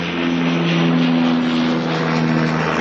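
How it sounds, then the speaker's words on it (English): A Dash 8 turboprop landing at Auckland Airport gives off a steady droning propeller hum that carries evenly across the clip. "Little dashy just landing there in the background, you can hear."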